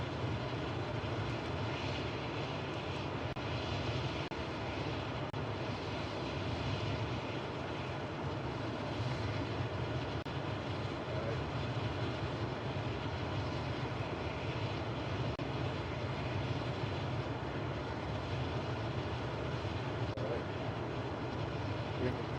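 Aircraft engine in Microsoft Flight Simulator 2024, played in VR career mode: a steady, even engine drone holds for the full stretch with no break or change in level, no talk over it.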